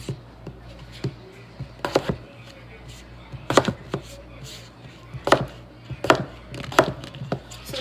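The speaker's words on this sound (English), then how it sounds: "we're going to get these cut up into cubes" A knife chops potatoes and carrots into cubes on a cutting board, giving irregular clusters of crisp knocks close by, some in quick doubles, with a speaking voice faintly underneath.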